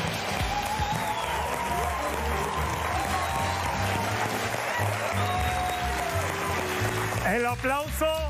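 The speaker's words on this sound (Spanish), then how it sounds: "El aplauso del público." A studio audience applauds on a Spanish-language TV variety show, steady clapping carrying through the clip beneath people talking and background sounds.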